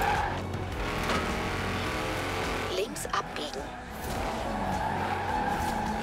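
A Porsche races in Forza Horizon 4, its engine roaring steadily with a tire squeal and skidding in the middle and no talk over it.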